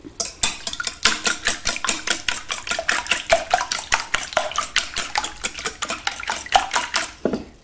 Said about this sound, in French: On fouette les œufs.